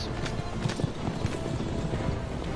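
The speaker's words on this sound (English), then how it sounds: "Gotta work on my horse carriage." Steady clip-clopping hooves of a horse-drawn carriage in the video game Assassin's Creed Revelations roll on under a dense wash of background sound, moderately loud and continuous.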